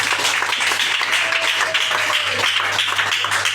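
Church congregation applauding during a thanksgiving service, steady continuous clapping from a crowd filling the room, with a low hum underneath.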